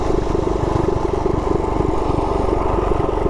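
A warmed-up Harley-Davidson Softail motorcycle engine running steadily nearby, a loud, even low rumble with rapid firing pulses and no talk.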